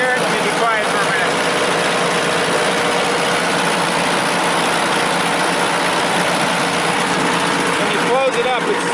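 A Multiquip DCA45USI 45 kW generator with an Isuzu diesel engine idles in a steady, loud, continuous drone heard up close throughout, with no notable change in pace.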